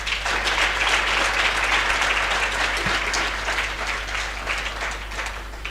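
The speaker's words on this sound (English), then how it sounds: "I think he deserves more than that round of applause" A lecture audience at an event on rural entrepreneurship and poverty alleviation gives a round of applause, a dense, even wash of clapping that holds steady for about six seconds.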